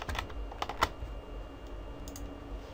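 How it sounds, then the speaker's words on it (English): Rapid keystrokes on a computer keyboard as a spreadsheet formula is entered, a quick burst of close, crisp clicks followed by a few scattered taps in a quiet room. "I'll just type in the formula equal sign transpose"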